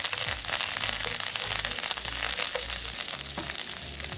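Steady, close sizzling of curry leaves frying in hot oil, a dense crackle with small pops, continuous throughout with no voices.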